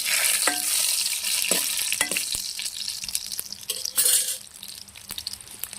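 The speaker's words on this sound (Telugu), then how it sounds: "కొన్ని ఆవాలండి లైట్గా ఫ్రై చేసుకోవాలి" Mustard seeds frying in hot oil with dried red chillies, a loud bright crackling sizzle with sharp popping ticks throughout, close and without speech.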